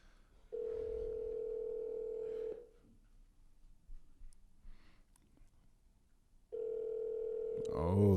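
A steady telephone dial tone sounds for about two seconds, gives way to a quiet gap with faint breathing and rustle, then returns loud and even, with a brief sweeping tone near the end.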